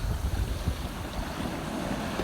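Sea waves rush and splash against a sailboat under way in a force 5 wind off the north coast of Ikaria, a continuous loud wash mixed with gusting wind buffeting the microphone.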